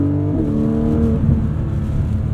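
Porsche 718 Cayman GTS 4.0 flat-six in Sport Plus mode, with the PDK gearbox blipping through crisp downshifts; engine note falls and rises in steady harmonic steps, loud and close from inside the cabin with no talk.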